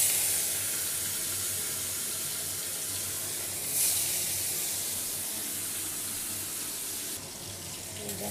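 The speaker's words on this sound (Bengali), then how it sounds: "আমি এবার চিংড়ি মাছগুলো ছেড়ে দেবো।" Prawns frying in hot oil in a wok, a steady broadband sizzle and hiss that holds evenly throughout, close and fairly loud, with no voices over it.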